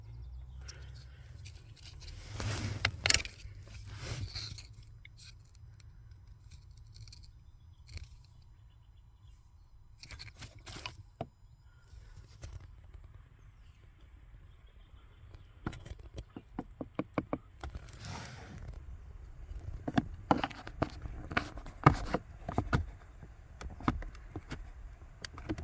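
A flathead screwdriver pries a fitted heater blower resistor out of a VW Polo airbox, with scattered clicks, scrapes and plastic knocks at close range, coming in bursts separated by quiet stretches.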